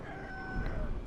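Game chickens in Sekiro: Shadows Die Twice's Mibu Village give a brief burst of clucking and squawking over a steady ambient bed.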